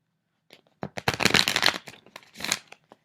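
Healing Light Tarot cards being shuffled up close, with a brief soft tap and then a dense burst of riffling card flutters, followed by one more short swish and a final tap in an otherwise quiet room.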